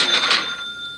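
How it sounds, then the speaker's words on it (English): A loud phone notification chimes close by, a bright ringing tone that holds briefly and then fades, inside a truck during a live broadcast. "there was a very loud notification"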